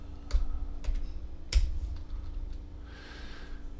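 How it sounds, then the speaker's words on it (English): Computer keyboard typing in a few scattered, sharp keystrokes and bursts over a steady low hum, no voices, ending in a faint hiss. "that was a fair amount of typing"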